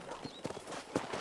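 Horse hooves clip-clop in Red Dead Redemption, a few distinct close footfalls at walking pace, with faint game ambience around them.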